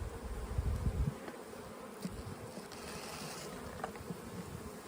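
Honey bees buzz on hive frames covered with bees, a dense, steady, close hum lasting throughout, with a brief louder low rumble near the start and occasional faint knocks.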